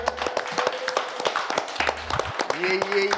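A few people clap in a podcast studio: sharp, uneven hand claps in short bursts, close to the microphone, mixed with voices talking and calling out.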